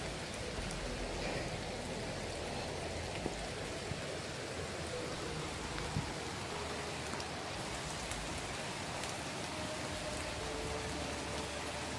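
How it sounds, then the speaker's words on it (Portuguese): Heavy rain pours steadily outdoors among trees, a dense, constant hiss of drops on surfaces that stays even and fairly loud throughout with no voices. "Gente, chove muito."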